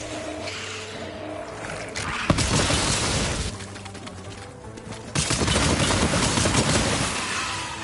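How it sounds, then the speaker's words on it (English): Shotgun fire in the Borderlands shooter game, a sharp blast followed by bursts of dense, crackling gunfire and explosions that swell and fade, loud and alone without talk. "Shotgun."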